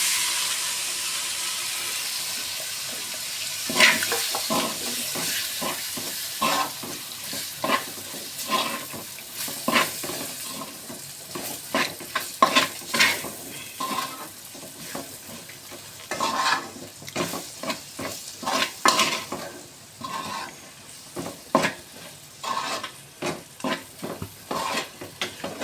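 Spiced pig intestine (potti) sizzling and frying in a hot pan while being stirred, with steady crackling hiss broken by repeated scraping, clattering stirs that grow busier toward the end, close and loud with no talk.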